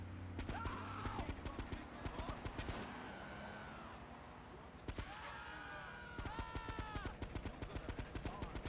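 Grand Theft Auto 3 gunfire rattles in rapid repeated bursts, loud and close, with a pause in the middle. Engine and game effects sit underneath, and a voice talks over parts of it.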